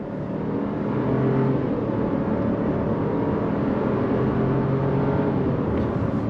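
A 2024 Chevrolet Trailblazer SUV accelerates on throttle through a turn, its engine a steady, continuous drone heard from the cabin, holding level throughout with no talk over it.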